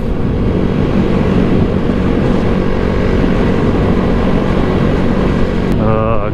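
A 2022 Honda Grom motorcycle on the move produces a loud, steady drone of engine and wind buffeting that runs without a break, ending with a brief rising whine.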